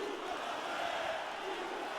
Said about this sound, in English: she's getting a little banter from the crowd too